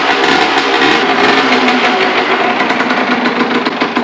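A Honda CG motorcycle engine runs loud and close on a mountain ride, a continuous buzzing, throbbing drone with a fast, even beat throughout and no voices.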